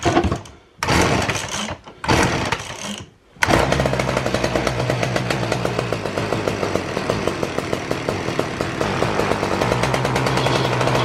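A small petrol engine with a freshly rebuilt carburettor is started indoors. A few short pull-start bursts come first, then it catches and idles with a loud, rapid, steady chugging rattle close by.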